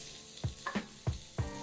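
Sausages on sticks fry in a pan, a quiet steady sizzle broken by four soft, evenly spaced knocks and stirring scrapes, close and alone without talk.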